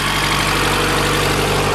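A Honda CRX Si fitted with a swapped-in Type R engine idles steadily at close range, a constant low mechanical hum and vibration with no talk over it.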